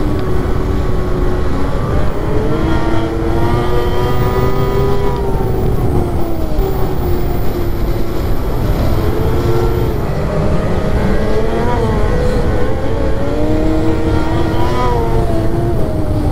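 A snowmobile engine revs continuously while riding, its pitch rising and falling in repeated surges, loud and close throughout with no talking.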